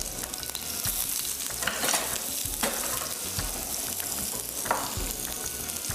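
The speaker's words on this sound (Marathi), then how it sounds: "चला, तेल गरम झालंय, काय घालूया? जिरं घालूयात थोडंसं." Cumin seeds, green chili and a little onion drop into hot oil in a home kitchen pan, giving a steady, close sizzle with crackling bursts and occasional stirring scrapes throughout.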